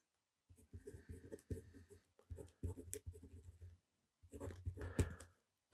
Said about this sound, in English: Let's write it here.